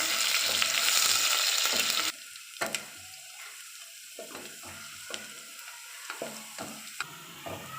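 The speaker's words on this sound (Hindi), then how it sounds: "अब हम घी में शामिल करेंगे लहसुन। इसको भी लाइट ब्राउन करेंगे।" Garlic frying in ghee for a saag tarka, a loud dense sizzle for about two seconds that drops to a quieter crackle with sporadic spatters and stirring clicks, close up, no voices.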